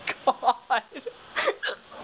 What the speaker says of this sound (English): Oh, I got the hiccups now.